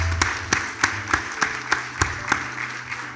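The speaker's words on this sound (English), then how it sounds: "Let's just give a big round of applause for being an Indian for ourselves." Rhythmic, synchronized clapping at a school Republic Day gathering in Bangalore, with about ten evenly spaced loud claps in unison over a low background hum.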